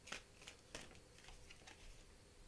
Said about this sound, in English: going to shuffle these cards here